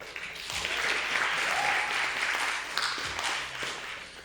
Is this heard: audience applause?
yes